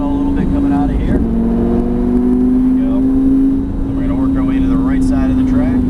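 A Lamborghini Gallardo engine drones steadily on a race track, its tone climbing as the throttle opens, while a person talks over the engine throughout.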